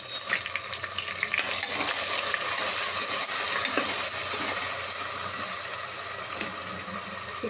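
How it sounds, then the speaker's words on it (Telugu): Spices and turmeric fry in hot oil for Hyderabadi haleem, a dense continuous sizzle with stirring, loud and close with no talk. "మనకి పచ్చివాసన పోయేంత వరకు మనం ఫ్రై చేసుకోవాలి."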